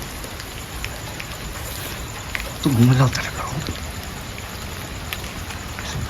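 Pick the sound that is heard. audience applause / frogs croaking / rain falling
rain falling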